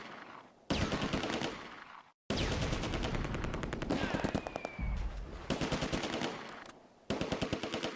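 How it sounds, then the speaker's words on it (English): Bren light machine gun firing bursts in the Close Combat war game, World War II Market Garden setting in tulip fields, loud rapid rattling bursts with short gaps and mixed battlefield gunfire. "2nd Platoon's Bren under Sergeant Finley targets the Schutzen in the ditch"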